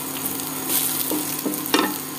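Potatoes fry in a pan of oil with cardamom, cloves and cinnamon, a close, steady sizzle with a few louder stirring scrapes and spatters near the end, with no talk.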